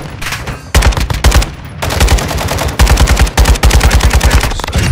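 Rapid automatic gunfire from a weapon in Call of Duty Warzone 2.0, loud and close, coming in several sustained bursts separated by short pauses.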